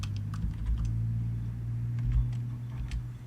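Typing on a computer keyboard during a live roleplay game session: a quick, uneven run of light key clicks over a steady low electrical hum, with no talk.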